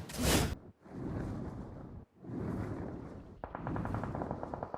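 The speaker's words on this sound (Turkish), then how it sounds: "Sana sıkıyorlar ama." Gunfire aimed at the player in PUBG Mobile, with loud bursts of automatic fire separated by short gaps. The last stretch is a rapid, crackling string of close shots.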